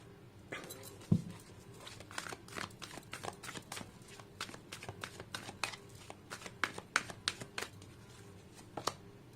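Tarot cards are shuffled by hand, producing a quick, irregular patter of soft slaps and riffles close by at low volume.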